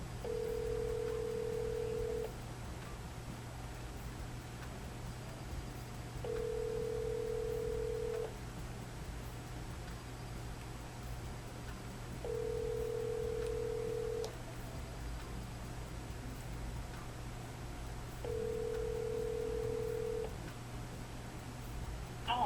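Ringback tone from a phone call to a grandfather: four steady, evenly spaced tone bursts, each about two seconds long, separated by roughly four-second gaps, over a constant low hum.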